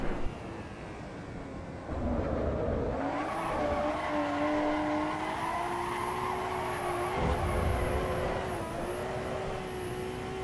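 A high-revving race car engine in the video game Assetto Corsa EVO drones steadily, the pitch holding and stuttering as it bounces against the rev limiter, with no talking.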